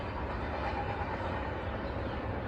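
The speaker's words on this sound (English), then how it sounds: "Now it's got a flat spot on the wheel. There's the end of the train." A long freight train's rear cars roll past close by, a steady broadband rumble of wheels on rail with a wheel carrying a flat spot, the sound continuous and fairly loud throughout.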